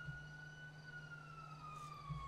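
A fire department siren wails in the GTA 5 video game, a steady tone gliding slowly downward with its harmonics over a low engine hum, heard fairly distantly with no voices.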